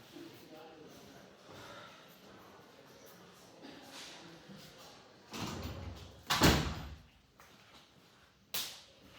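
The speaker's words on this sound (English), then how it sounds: "let me just close the door" A door closes indoors in a room, with a soft sliding thud followed by a sharper slam and another brief knock near the end, heard faintly against quiet background.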